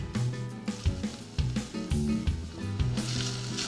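Rice and garlic sautéing in olive oil in a pan, a soft, steady sizzle running under louder background music with rhythmic tones throughout.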